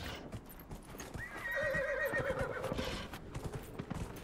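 Horse hooves clip-clopping in Dragon Age: Inquisition, a steady rhythmic trot over game ambience, with a horse's whinny rising briefly in the middle.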